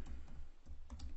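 Quick keystrokes on a computer keyboard as a web address is typed into a browser's address bar, a steady run of close, soft clicks over faint low background hum, no voice.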